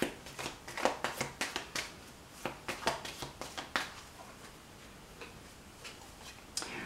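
Angel cards are shuffled by hand in a quick run of crisp riffling taps close by, bursts repeating rhythmically before trailing off into quieter handling.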